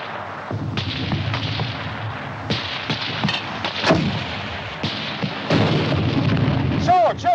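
Mortar and artillery fire in a 1951 war film: repeated heavy booms and thuds, close and loud, over a dense rumbling battle background with scattered sharper cracks.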